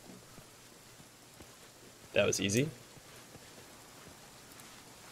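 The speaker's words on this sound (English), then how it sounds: "Of course, it's raining now, so exploration's gonna be a real pain in the patootie." Steady rain falls in the video game Pathfinder: Kingmaker, a faint, even hiss with scattered drop ticks throughout, briefly covered by a voice speaking in the middle.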